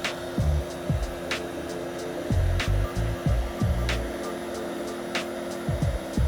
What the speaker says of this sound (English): take a hairdryer and heat the surface